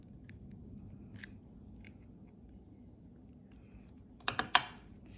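Snips of wire cutters trimming jewelry wire while making a triangle pendant, a few faint clicks early on, then two sharp close cuts near the end over low background hum.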